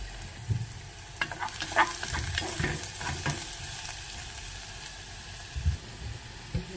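Garlic fries in a pan before asparagus goes in, a close, steady crackling sizzle with scattered pops and soft stirring knocks, and no voices.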